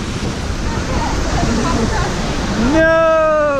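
Water rushes steadily at a stream crossing on a hiking route, a loud broadband roar throughout, with a voice speaking and rising in pitch over it near the end.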